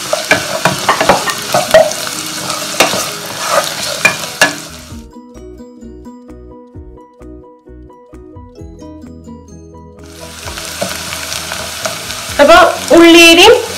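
Shallots or onion sautéing in a pan for a milkfish curry, with sizzling and stirring scrapes at the start and end, separated by a quieter stretch of soft tonal sounds.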